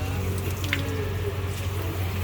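Steady running water from a shower during a family outing before swimming, a continuous close hiss with faint dripping and no voices over it.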